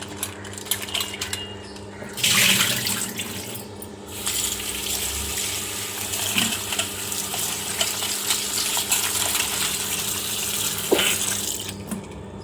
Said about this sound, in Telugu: పీతల్ని వాటర్తో 2-3 సార్లు శుభ్రంగా కడుక్కోవాలి